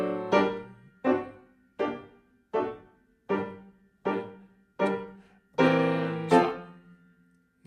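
A piano phrase is played with both hands as a series of evenly spaced struck chords, each decaying quickly, with a brief stop in the middle before a fuller, louder chord group closes the line.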